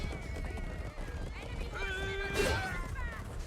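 A horse in the video game Chivalry 2 gives a rising neigh partway through, heard over a steady rumble of battle noise and scattered hoof sounds.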